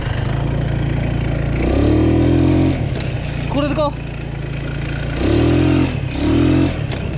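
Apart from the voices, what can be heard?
stunt scooter engine revving at full throttle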